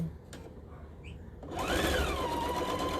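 Sewing machine stitching a 4th of July tea towel: quiet handling at first, then the motor starts and runs in a steady close whir with a rising and settling pitch.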